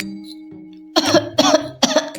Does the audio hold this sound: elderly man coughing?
yes